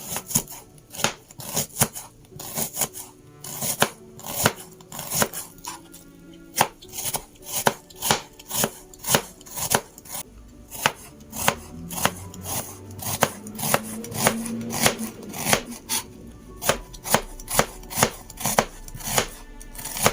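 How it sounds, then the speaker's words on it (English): A knife chops finely through onions on a cutting board in rapid, evenly spaced strokes, each crisp thud close and distinct, continuing steadily throughout with no speech. "first we just slice the onions finely"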